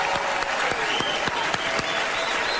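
Audience applause with scattered cheering and whistles, a steady dense clapping from a crowd, loud and sustained throughout.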